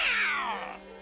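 A cartoon cat in The Smurfs gives a single clear meow that falls in pitch and fades out in about a second.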